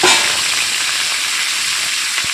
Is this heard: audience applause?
no